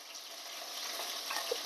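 Chicken frying in a pan with a spoonful of salsa, a steady bright sizzle with soft stirring scrapes running throughout at an even level, no talk.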